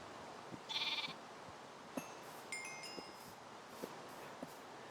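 A baby sheep in a Stone Age farming video game gives a short, bright bleat early on, followed by soft game clicks and faint chimes, with no talking.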